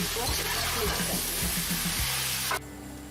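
Boiled egg noodles being stir-fried with vegetables in a pan: a steady sizzle with repeated scraping and tossing strokes, close and moderately loud, cutting off abruptly near the end.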